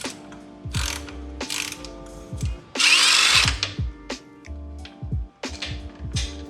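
A power tool rattles off a size 17 bolt on a Yamaha MT-07 motorcycle, with several short ratcheting bursts close by and one longer, louder whirring burst in the middle.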